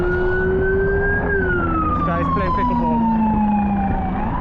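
A police car siren wails loudly and close by on a Manhattan street, its pitch sweeping slowly down over several seconds, while someone talks briefly over steady traffic noise.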